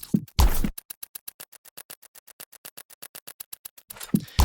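Celestine granular effect plugin, set fully wet, chops audio into a rapid, regular train of short clicky grains, with louder smeared bursts at the start and end.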